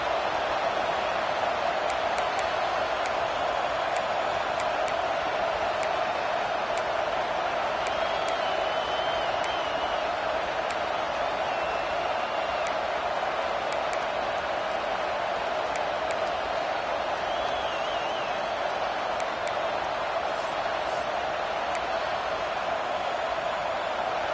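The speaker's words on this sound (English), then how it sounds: "this big crowd doing everything possible to inspire this defense down here near the goal line" A big stadium crowd in a College Football 26 video game roars steadily near the goal line, a constant dense wash of cheering with faint whistles and whoops on top, holding even in level throughout.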